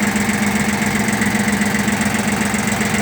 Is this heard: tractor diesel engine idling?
yes